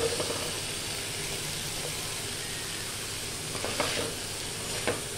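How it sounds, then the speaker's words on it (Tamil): Boiled cauliflower florets stirred into a tomato and pepper masala in a hot pan, a steady loud sizzle of frying with a few scraping stirs of the spoon, no talking. "இப்போ நம்ம வேக வச்ச காலிஃப்ளவரை சேர்த்துக்கலாம்"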